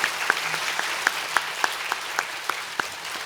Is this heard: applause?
yes